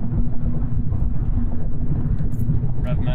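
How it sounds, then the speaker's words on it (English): Loud, steady low rumble of road and engine noise inside a manual-transmission car cruising on the highway, continuous throughout with a faint higher hiss on top. "this car is extremely loud on the highway"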